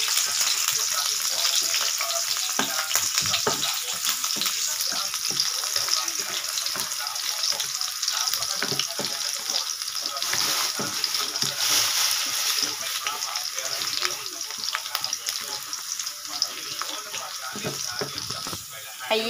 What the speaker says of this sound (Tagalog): Lutuin lang natin hanggang sa mag-golden brown ang bawang.